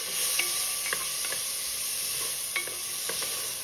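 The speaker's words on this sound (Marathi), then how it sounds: "हिरवे मटार. हे सगळं छान परतून घेऊया." Green peas and other ingredients are sautéed in a pan for South Indian bisi bele bhat, a quiet steady sizzle broken by a few spatula stirs, with no talking.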